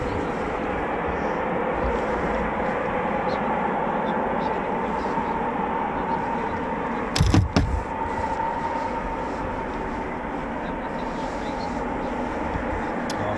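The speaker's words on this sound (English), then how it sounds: "Sounds of Typhoon starting up." RAF Eurofighter Typhoon FGR4 jets of 41 Squadron at RAF Coningsby, heard on an evening of night flying, produce a steady, distant broadband roar of engines starting up. A short, sharp thump breaks through about midway.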